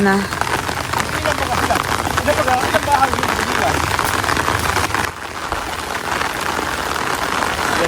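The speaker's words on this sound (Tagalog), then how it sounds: "Bigla pong bumuhos ang ulan." Heavy rain pours down in a dense, continuous hiss, briefly easing midway before pressing on; voices murmur faintly underneath.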